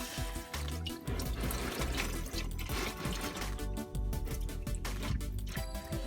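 Engine oil pours fast from the drain of a 2017 Honda Accord Sport during an oil change, the top cap removed, giving a steady, close splashing gush with no talking.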